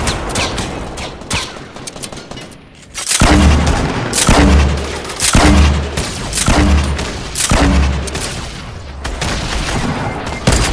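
Sniper fire in the Fortnite video game: a series of about five sharp, loud shots at roughly one-second intervals, each with a heavy low boom, following a stretch of busier gunfire.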